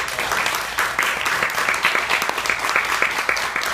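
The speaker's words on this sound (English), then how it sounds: "let's give her that moment of a round of applause of how great she is." A room full of people gives a sustained round of applause at a memorial tribute, dense steady clapping close by for several seconds with no talking.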